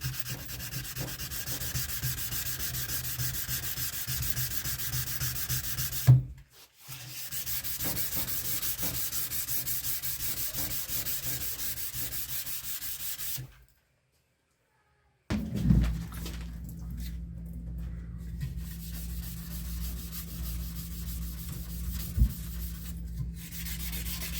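A firearm is block-sanded with 400 grit sandpaper on a cork block, producing close, steady rhythmic rasping strokes in long runs, broken by two short pauses.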